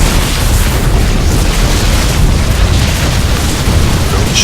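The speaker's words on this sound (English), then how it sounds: "Cannons going down quite fast here." Photon cannons being destroyed in a StarCraft II battle: a dense, loud stream of overlapping booms and explosive bursts with continuous game combat noise.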